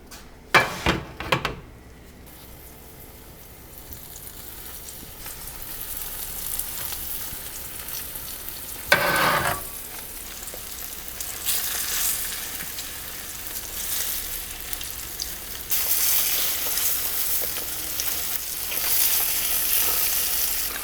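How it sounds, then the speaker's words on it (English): Tofu frying in a hot pan: a few sharp clatters of pieces dropping in at the start, a utensil knock midway, then a steady, building sizzle that grows louder toward the end, close and without voices. "So all you do is put in like that, and it's ready to fry. We're going to fry these."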